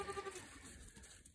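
Meat-breed goats bleat on a farm, a few short repeated calls early on, close and fairly loud, fading into low barnyard background noise.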